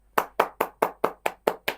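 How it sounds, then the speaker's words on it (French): Eight crisp hand claps in a steady, even rhythm, each one sharp and close, with short quiet gaps between them and no speech. "j'applaudis, frère."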